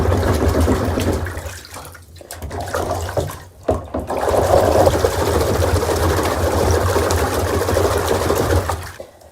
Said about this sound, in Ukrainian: можна як процідити через нього воду